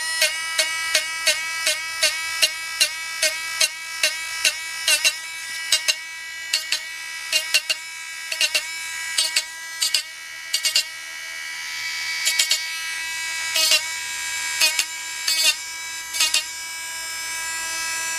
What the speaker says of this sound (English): The Dremel is really useful when it comes to your doll restoration.